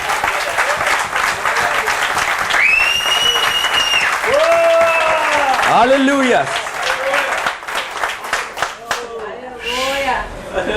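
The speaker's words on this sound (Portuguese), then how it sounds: "Louva o Senhor com uma salva de palmas" Congregation applauding at a church convention service in Rio de Janeiro, a sustained dense clapping that fills the clip, with voices singing and calling out over it.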